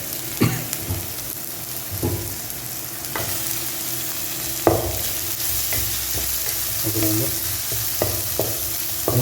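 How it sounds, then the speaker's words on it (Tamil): Chicken and fish fry in oil in a kadai, giving a loud, continuous sizzle with repeated sharp clatters of stirring and scraping spread through the stretch, and no voices. "இதையும் ஒரு விட்டுருலாம் ஸோ எண்ணெயில் நல்லா வறுத்துக்கலாம்"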